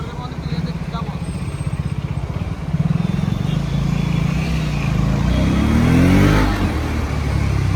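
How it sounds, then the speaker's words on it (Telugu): A Triumph Scrambler 400X motorcycle runs on a test drive, its engine a steady mid-pitched drone that rises with revs toward the end, heard throughout with wind noise and steady riding hum. "And Bauer now we are test driving this scrambler 400X."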